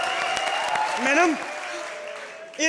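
A comedy stage show audience claps in a steady, sustained roar of applause. Voices and cheers rise over the clapping, which swells again near the end.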